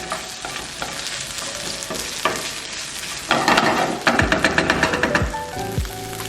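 Tomato paste cooks in a hot pan with a loud, continuous sizzle. Stirring and scraping come through in a run of rhythmic strokes during the second half.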